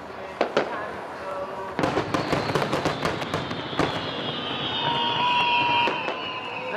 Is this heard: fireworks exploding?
yes